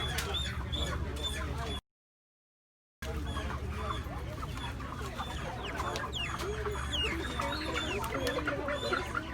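Kaporos chickens showing respiratory distress cluck and squawk repeatedly in a crowded, noisy outdoor setting, with a brief break in the sound and voices murmuring in the background.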